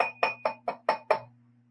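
The metal end of a pencil strikes a drinking glass six times in steady rhythm, each clear ringing clink decaying quickly, with a faint sustained hum underneath.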